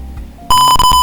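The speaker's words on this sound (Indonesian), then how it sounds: "Ketika setelah selesai sesi kerja, dia nanti akan bunyi buzzer dan kemudian akan menampilkan waktu istirahat." An Arduino buzzer on a work-session timer sounds at the end of a session, a loud sustained electronic tone with sharp onset cutting in halfway through after a quiet, faintly humming lead-in.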